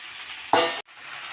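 Okra and long-cut potatoes dropped into hot oil give a sudden loud sizzle and crackle that holds for about a quarter second, then cuts off abruptly, with no one talking.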